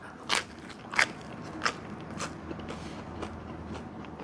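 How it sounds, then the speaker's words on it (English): Crispy Jet's Pizza crust bitten and chewed close up, several sharp crunches spaced about half a second apart that fade into softer chewing crackles. "You can probably hear some of that crisp."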